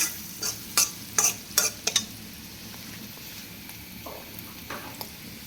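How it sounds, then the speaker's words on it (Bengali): Sweet pumpkin fries in a pan with a soft, steady sizzle, while sharp metal spatula clinks and stirring scrapes land in a quick cluster near the start and then fade to occasional taps. "আমি এবার ভাজির মধ্যে মিষ্টি কুমড়া ভাজি দিয়ে দিই।"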